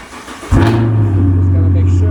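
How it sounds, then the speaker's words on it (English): A Chevrolet Camaro SS stored for winter cranks and fires up, its engine catching sharply and then settling into a loud, steady, deep idle rumble close by. "I always have to start up the Camaro when I put it away for the winter."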